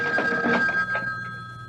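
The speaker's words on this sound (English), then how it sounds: "Answer it, Alice. Answer it" An old telephone bell rings in a short burst of rapid metallic trills that fade into a lingering tone, near and clear, with no one speaking over it.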